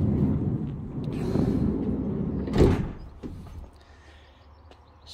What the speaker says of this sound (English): open the sliding door